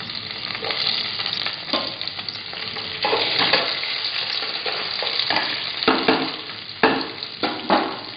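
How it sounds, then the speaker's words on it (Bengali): Capsicum frying in oil in a wok, a steady close sizzle with repeated stirring scrapes and clatters that swell at intervals, no talking. "কড়াইতে একটু তেল দিলাম, দিয়ে দিলাম ক্যাপসিকাম"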